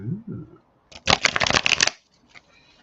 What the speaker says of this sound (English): Does it want to actually see me shuffle?